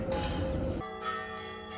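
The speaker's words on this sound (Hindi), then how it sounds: "यहाँ पे ऐसे घंटी की आवाज़ सुनाई देना काफ़ी रेयर सिचुएशन होती है" A church bell rings at a red church in Helsinki, a bright metallic strike with lingering ringing overtones, moderately distant and heard alone.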